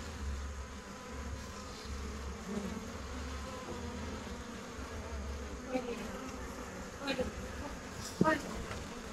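Honey bees buzz steadily around a homemade wooden bee box, a close continuous drone with individual insects passing by, and no one speaking.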